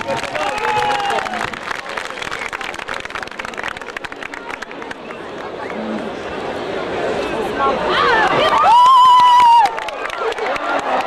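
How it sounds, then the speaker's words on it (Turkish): Crowd at an outdoor bull wrestling event in Artvin cheering and clapping, a broad roar of voices and applause with scattered shouts, plus a brief high whistle-like tone near the end. "Kendisini bir alkışlayalım"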